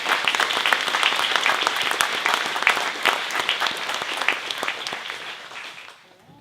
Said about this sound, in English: So I definitely want to give a round of applause to everybody who's in here.